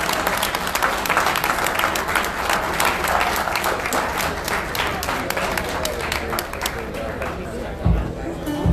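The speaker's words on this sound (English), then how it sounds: "A final round of applause." Audience applause fills the room at the close of a presidential debate for the Libertarian Party of California, steady and dense with crowd chatter mixed in throughout, ending in a couple of louder thumps near the end.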